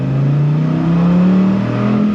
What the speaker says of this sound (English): 10 cylinders firing away out the side exhaust.